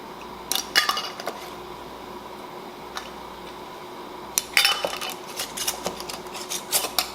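Glass canning jars filled with cherry butter clink and rattle as their lids are tightened and the jars are handled, sharp scattered knocks and chinks in bursts against a quiet background.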